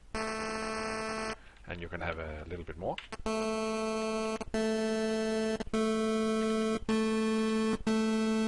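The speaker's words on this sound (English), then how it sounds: "you can say 1, and then you have a very narrow pulse," A narrow pulse wave from a SID chip, played in the CheeseCutter tracker, gives thin, buzzy, static tones held in five steady bursts with short gaps, loud and close, after a brief stretch of someone talking.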